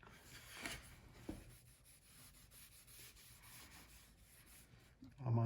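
A rag rubs linseed oil into a wooden board, a soft continuous scrubbing swish with back-and-forth strokes, close and quiet, ending in a louder handling bump.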